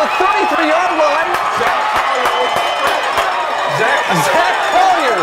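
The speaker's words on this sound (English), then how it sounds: "The Green Bay crowd is going crazy." A stadium crowd at an NAIA national championship football game roars steadily and loudly after a Green Bay fumble recovery, with whoops and clapping woven through the din.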